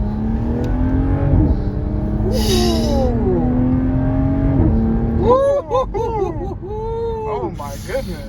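A 2022 Toyota Supra with a manual gearbox revs its engine, the pitch rising in a long sweep and then flicking up and down in quick blips, with people talking and exclaiming excitedly over it.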